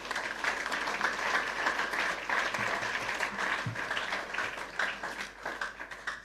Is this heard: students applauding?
yes